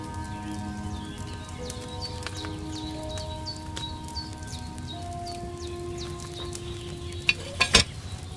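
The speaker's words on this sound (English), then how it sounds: "Hear that bubbling? It's boiling." Wine boils in a cauldron over a fire in the video game Kingdom Come Deliverance 2, giving a steady bubbling, sizzling texture with small pops and a few sharp louder clatters near the end, and no talk.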